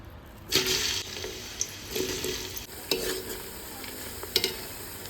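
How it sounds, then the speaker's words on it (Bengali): Onions fry in hot white oil for beresta, crisp sizzling bursts flaring up every second or so as they are stirred, close and moderately loud with quieter hiss between. "তেল গরম হয়ে গেছে এবার আমি বেরেস্তা ভেজে নেবো"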